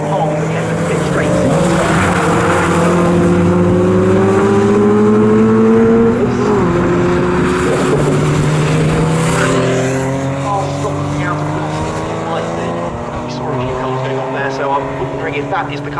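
Saloon and modified Ford race cars racing at Snetterton circuit, loud engines with rising and falling pitch as cars pass and shift, continuous and close, with a commentator talking over them.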